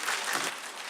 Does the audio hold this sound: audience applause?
yes